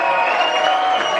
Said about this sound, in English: let's hear a round of applause for Trigger